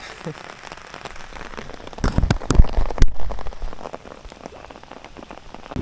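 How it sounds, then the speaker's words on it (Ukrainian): Steady rain patters on a lake during a summer fishing trip for bream, a dense hiss that swells into heavier, louder drumming midway before easing back to a constant fall. "Дощ іде."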